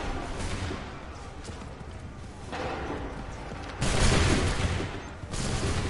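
Musket volleys and cannon booms in an Assassin's Creed 3 battle, heavy layered gunfire with a big burst near the end, a dense continuous barrage with no clear individual shots.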